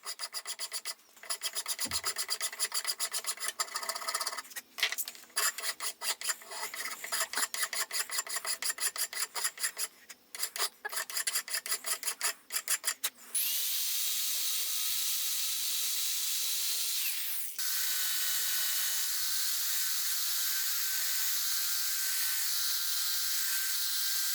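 Steady abrasive rasping of a belt sander grinding knife handle scales, with rhythmic pulsing in the first half, then a smoother continuous hiss.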